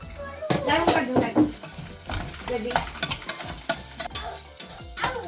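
Chopped cabbage and carrot sizzle and get tossed in a hot pan, with repeated scraping and clattering stirs in an irregular rhythm, close up.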